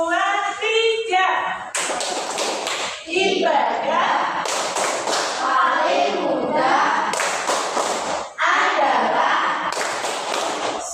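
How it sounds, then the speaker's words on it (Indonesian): A group of children in a classroom performs the tepuk senyum clapping routine, bursts of rhythmic claps between bouts of chanted and sung speech, with an adult voice leading and the clapping returning in several short patterned runs. "Sama-sama ya tepuk senyum."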